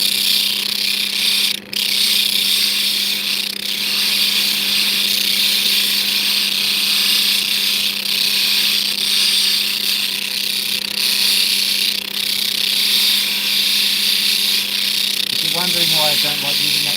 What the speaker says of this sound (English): I'll just get that done with the other, much more brutal sandpaper.